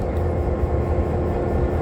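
A railroad museum turntable turns a 76-year-old diesel locomotive, giving a steady, loud low rumble and drone with no distinct breaks and no talking.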